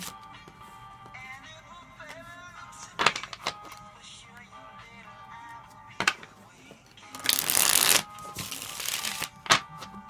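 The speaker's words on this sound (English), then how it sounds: "One more shuffle." A deck of tarot cards is shuffled several times, giving brisk riffling bursts and soft taps, with a louder flurry of rapid flicks toward the end.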